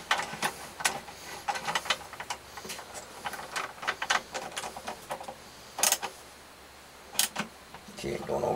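Magnetic screwdriver fastening screws on a MasterCraft 4.5-inch wet tile saw, a run of close clicking ratchet-like ticks and metallic taps with brief pauses, faint background hum.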